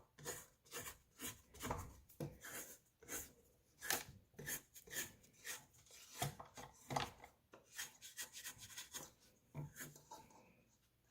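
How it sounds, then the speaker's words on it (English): A rubber spatula scrapes flour off the sides of a mixing bowl while white bread dough is made, producing faint, close, rhythmic rasping strokes in quick irregular succession. "I can scrape the sides of my bowl"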